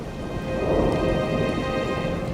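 Heavy rain hisses steadily in the video game Nancy Drew: Midnight in Salem while a low rumble of thunder swells underneath, a constant dense storm bed with no voices.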